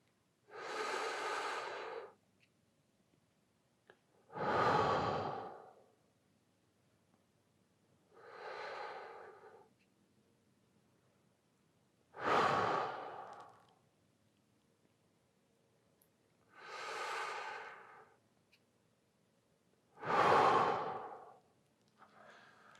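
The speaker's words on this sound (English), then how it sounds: "Inhale, hold, exhale." Slow breathing during a midnight yoga exercise: six long, soft breaths, inhales and exhales alternating at an unhurried pace with quiet pauses between them, close to the microphone.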